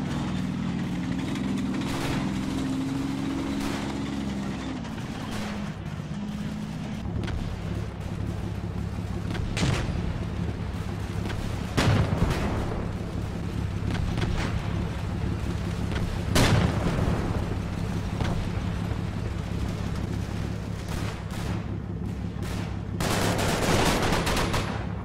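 Artillery fire in the video game Carbide Carbide Redux: several heavy, sharp booms burst out at irregular intervals over a constant low engine-like rumble, with no talk.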